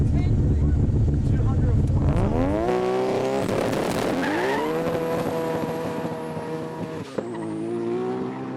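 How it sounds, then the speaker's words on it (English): A drag race car spins its wheels with a loud, rising engine howl and tyre squeal that climbs steadily in pitch over several seconds, close and continuous, then cuts off and drops lower near the end. "Wheel spin."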